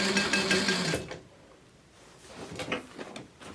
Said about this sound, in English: back stitch a few times